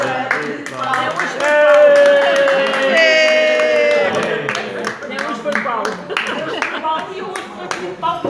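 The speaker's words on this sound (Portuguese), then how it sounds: "Uma salva de palmas." Guests at a 50th-birthday family lunch celebration clap their hands together in a loose, uneven burst while people sing and talk loudly over it.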